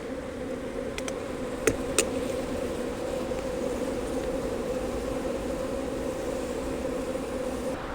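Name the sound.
honey bees flying around hive, robbing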